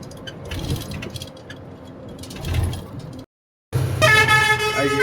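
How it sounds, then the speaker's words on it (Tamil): Road traffic rumbles at dusk, then after a brief silent gap loud car horns blare and honk repeatedly, close and insistent. "ஸோ ஹாரன் வேறு பட்டை கிளப்புறாங்க"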